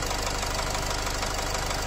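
A Renault-built 2.0 dCi diesel engine in a Nissan X-Trail idles with a faulty piston knocking, giving a close, constant rumble laced with a rapid, regular metallic tapping, and no voices.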